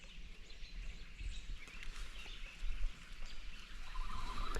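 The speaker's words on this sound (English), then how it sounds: "There's a bunch of robins done made it down here." Robins calling outdoors by the water, a scattering of faint chirps and song notes over steady background ambience, with no talking.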